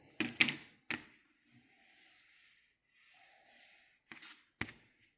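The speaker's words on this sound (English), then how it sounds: "leave yourself enough yarn to weave in the ends and cut your yarn" Scissors snip through crochet yarn in a quiet room: a few sharp close snips and clicks, spaced irregularly, with soft rustling of yarn between them.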